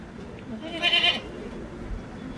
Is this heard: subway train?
no